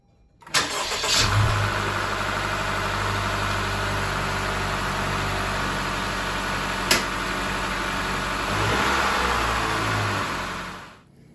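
A Honda Jazz engine cranks and fires after an oil change, then settles into a steady idle with a brief sharp click midway and a slight rise in revs near the end before cutting off, close and without talk.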